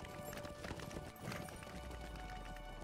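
Horse hooves clip-clopping steadily along a road in the online game Lord of the Rings Online, a continuous loud trot over game ambience with no talk.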